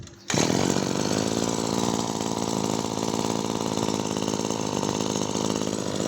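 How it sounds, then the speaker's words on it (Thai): A small two-stroke Maruyama CBC20 brush cutter engine, with a newly replaced clutch bearing, starts and runs at a steady, buzzing idle close by, continuous and fairly loud, with no talking. "เสียงเครื่องก็จะเงียบไปเลยนะครับเพราะว่าเราเปลี่ยนลูกปืนเข้าเหวี่ยงด้วย"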